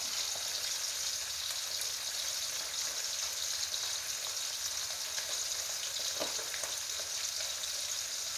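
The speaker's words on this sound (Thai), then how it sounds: "ปลาทอด" Small fresh fish fry in oil over moderate heat, a steady, faint crackling sizzle with scattered pops running throughout, no voices.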